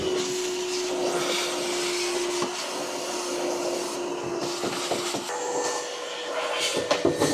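A vacuum cleaner runs steadily while cleaning out wall stud cavities, with a constant whine and intermittent scraping and rubbing of the nozzle against wood, plus a few sharp knocks near the end.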